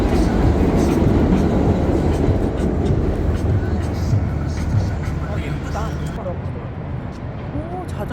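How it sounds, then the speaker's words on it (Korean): Rumbling subway train in New York, a steady loud roar of wheels and carriage with faint squeals near the end, heard close up from inside or beside the car. "지하철 소리."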